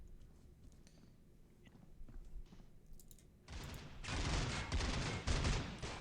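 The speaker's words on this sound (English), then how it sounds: "We also got grenades going off." Grenades and gunfire in the shooter game Critical Ops: quiet clicks first, then a loud, dense stretch of rapid shots and bursts that keeps going to the end.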